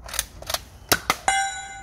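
An X-Shot Excel Vigilante toy blaster fires in the woods with a few sharp, close clicks and snaps, the last followed by a short metallic ring.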